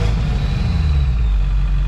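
Truck engine running steady and loud after a crank no-start fault, a continuous deep rumble with an even idle and no pauses.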